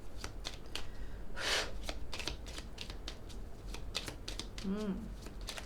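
A deck of tarot cards is shuffled by hand at close range, with repeated riffling flutters and quick papery slaps in an irregular rhythm, steady and moderately loud throughout.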